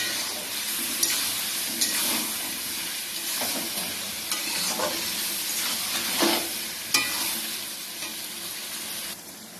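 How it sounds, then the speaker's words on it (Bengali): Chicken pieces going into spices frying in a pan for homemade chicken biryani, with a steady close sizzle and crackle throughout and scattered scraping stirs from a spatula. "বন্ধুরা এবারে আমি মাংসটাকে দিয়ে দিচ্ছি"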